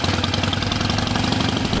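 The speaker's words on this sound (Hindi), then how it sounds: "इनके पास जनाब हार्ले डेविडसन बाइक है जो कि 900 सीसी है।" A 900cc Harley-Davidson motorcycle engine idles steadily nearby, a loud, continuous low rumble with fast regular pulsing and no voices.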